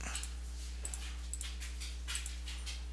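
A pet dog whimpers in a quiet room, thin high whines coming in short repeated bursts over a low steady hum.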